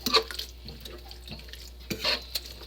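Stuffing being stirred and mixed in a cooking pot, with a few soft scraping and clinking strokes of the spoon against the pot, spaced irregularly and fairly quiet.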